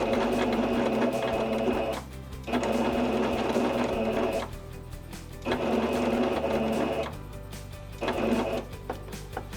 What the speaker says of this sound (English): I'm going to stitch right here in the edge of that first seam on the right side of my fabric